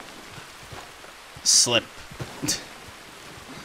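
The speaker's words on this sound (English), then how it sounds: "It's raining. That's nice. Nice change from snow to rain." Rain falls steadily in the video game Red Dead Redemption 2, a soft continuous hiss under someone talking briefly.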